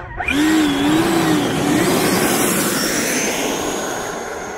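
E-flite Viper 90mm electric ducted-fan RC model jet flying, a loud close rising whoosh and whine that sweeps past and holds as a steady roaring drone, slowly fading.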